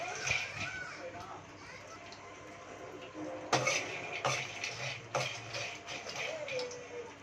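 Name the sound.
stirring roasting makhana in a kadai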